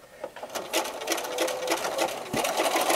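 A sewing machine runs a zigzag stitch: a steady, fast needle chatter with small speed changes, close and clear, with no voices.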